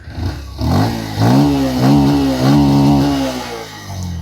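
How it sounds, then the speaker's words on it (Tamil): An updated Bajaj Pulsar 125 motorcycle revs close by. The engine climbs from idle into several rising, held pulls of a throaty hum, then drops back down. "இந்த பல்சருக்கான உருத்தான ஒரு சவுண்டு"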